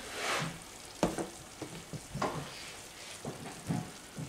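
Flour being stirred into a sauce in a pan for creamed chipped beef on toast: a faint frying sizzle with intermittent spoon scrapes and taps against the pan, no talking.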